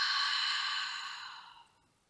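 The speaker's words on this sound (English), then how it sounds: "inhale deeply into the nose and exhale out through the mouth" One long, deep exhale through the mouth after a deep breath in, close and breathy, fading out smoothly to silence.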